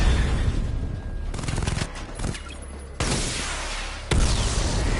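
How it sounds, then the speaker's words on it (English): A missile barrage fires from the Batmobile in Batman Arkham Knight, a loud, dense volley of rapid launches and blasts that keeps roaring across the whole stretch, with sharp surges as fresh salvos kick in. "Destroy targets to charge up weapon energy and activate missile barrage."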